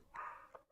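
One brief, faint dog bark rings out, a little distant and muffled, trailing into a quiet room.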